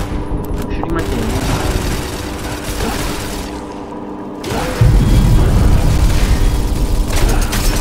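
Rapid bursts of gunfire from the video game Valour Zombies, dense and loud, with a heavier boom partway through and game sounds underneath.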